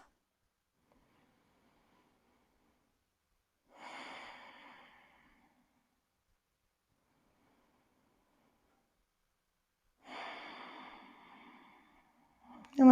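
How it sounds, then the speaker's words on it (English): Two slow, soft breaths drawn through the nose during a quiet yoga flow, each a faint airy rush separated by long silence. "Let me do 2 more breaths."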